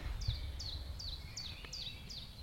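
Birds chirp steadily around a house in the forest, a clear repeating call sounding about six times at an even rhythm over soft background hum, fairly close and moderately loud.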